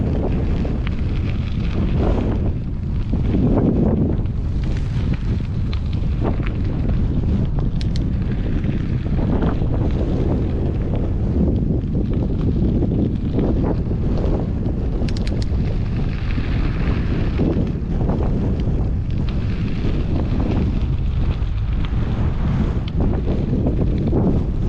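Strong wind buffets the microphone in a steady, loud roar for the whole stretch, blowing as a north headwind against cyclists on a long road ride past windmills.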